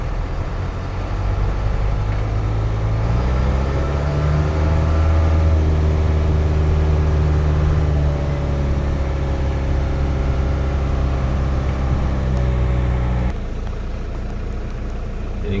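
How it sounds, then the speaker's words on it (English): A 2004 GMC box truck pulling forward and then reversing, its engine a steady close, loud low rumble that swells slightly mid-way and settles toward the end. "I'm gonna pull it here a little farther, and then I'm gonna do a reverse"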